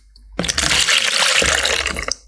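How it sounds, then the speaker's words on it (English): Blended herbal juice pours steadily into a jug for about two seconds, a close, continuous watery splash and gurgle that starts abruptly and tapers off at the end, with no talking. "you can pour inside your jug so that you can serve yourself"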